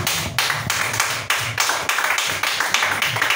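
A church congregation claps together in acclamation during lyrical prophetic prayer, loud steady rhythmic applause with sharp bursts repeating over a few seconds, no voices.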